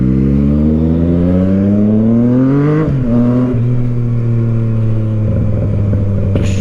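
A moped engine revs steadily with rising pitch, dips briefly, then holds a loud buzzing drone close by, with no talk over it.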